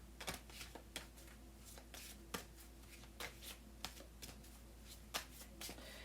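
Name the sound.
shuffling a deck of oracle cards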